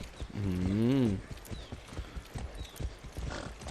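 Horse hooves clip-clop in a steady rhythm while a horse is ridden in Far Cry 6, opening with a loud whinny and continuing as close, regular hoofbeats with a voice talking briefly over them.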